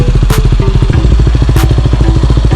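A Yamaha WR250R converted to supermoto with Warp 9 17-inch wheels, its single-cylinder engine running loud and close with a rapid steady thumping pulse and a brief rev mid-clip.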